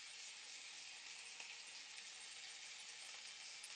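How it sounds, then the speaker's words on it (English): A steady, hissing sizzle of beef mince frying in hot oil, close and constant, with a few faint pops and no talking. "We're going to add in this mince. Let's put all this in. You can hear it sizzle."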